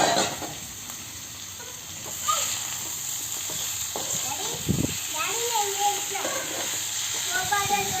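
Half a kilo of chicken going into a pan for chicken biryani in a home kitchen gives a steady sizzle and hiss with stirring scrapes, while voices, including children's, talk over it.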